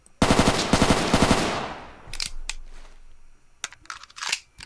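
Rapid automatic gunfire from weapons in the ACS video game mod, a loud dense burst of shots for over a second that trails into reverb, followed by a few scattered clicks and mechanical clacks.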